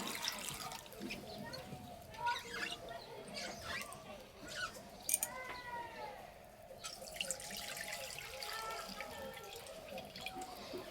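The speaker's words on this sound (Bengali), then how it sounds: "চালটাকে আর একবার ধুয়ে নেব।" Rice being washed in a bowl of water, with soft sloshing, dripping and splashing that continue throughout, quiet and close, and a faint voice heard briefly.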